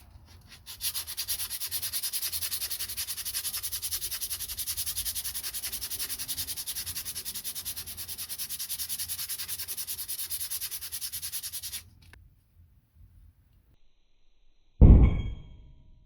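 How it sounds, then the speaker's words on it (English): Continuous dry sanding scrapes on a round wooden mattock handle fill most of the clip, then stop abruptly, followed by near silence and a single sharp knock or clunk near the end. "I'll rotate it so that I'm not sanding one spot too flat."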